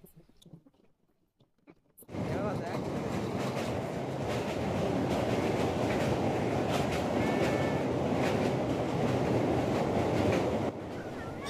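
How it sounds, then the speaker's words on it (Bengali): A local train from Kolkata crosses the Ganges bridge near Bandel, heard from inside: after two quiet seconds a loud, dense metallic roar and rattle sets in and stays steady to the end. "ব্রিজের ওপর থেকে যখন ট্রেন যায় এই শব্দটা আমার শুনতে খুবই ভালো লাগে"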